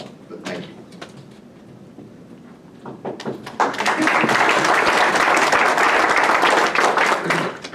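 Audience applause breaks out at a human trafficking awareness event, starting as a few scattered claps and building into sustained loud clapping that fills the room.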